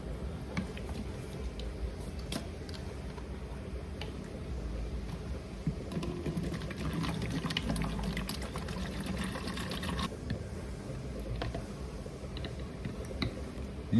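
Water pouring steadily into a jug, a continuous low gurgling splash that runs on for several seconds at moderate volume.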